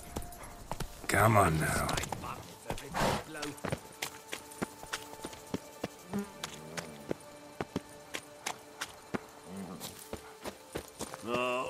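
Roach, the horse in The Witcher 3: Wild Hunt (Blood and Wine), runs with a steady clip-clop of hooves under a soft spoken voice, accompanied by game music and scattered rustling.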